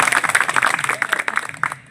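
Audience applause at a YouTubers' federation friendship gathering in Nuapada district, a steady patter of many hands clapping at moderate distance, continuous for about two seconds and fading slightly at the end.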